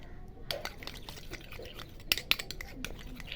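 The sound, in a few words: stirring green gram, rose water, curd and turmeric face pack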